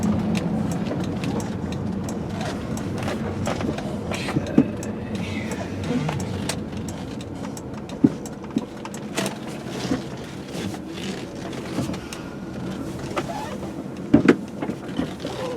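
A 2004 VW Jetta GLI V6 with a six-speed gearbox drives along, its engine giving a steady, fairly loud hum and drone inside the cabin with a few brief knocks and clicks over the road noise.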